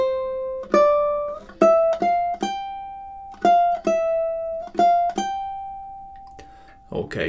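A ukulele plucks measures 9 and 10 of Swan Lake, about eight clear single notes in a steady rhythm, each ringing and decaying, with the last note held longer before a brief noise at the end.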